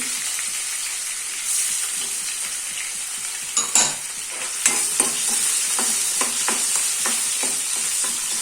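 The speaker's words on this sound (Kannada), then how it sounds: "ಕಾದ ನಂತರ ಶುಂಠಿ ಹಾಕಿ, ಪೀಸ್ ಮಾಡಿದ ಶುಂಠಿಯನ್ನು ಹಾಕೊಳ್ಳಿ" Chopped ginger sizzling in hot oil for a chicken pepper masala, a loud steady hiss close by with a few sharp clatters and spoon scrapes partway through.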